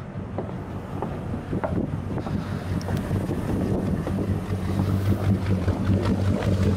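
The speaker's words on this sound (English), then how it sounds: "The boat was cold starting. Can say that. Sounds like it has a cam though." A boat engine runs with a lumpy, cam-like idle after a cold start, a low steady rumble heard outdoors near water with wind buffeting the microphone and growing slightly louder.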